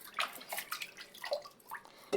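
Potatoes being washed by hand in a bowl of water, with soft sloshing and splashing strokes and a few drips, close by and fairly quiet, no talking.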